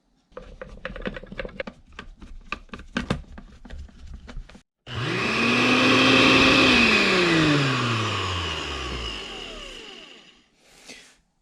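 A repaired Oster blender is reassembled with clicks and rattles, then its motor starts with a loud whine that rises and slowly winds down before a brief final burst.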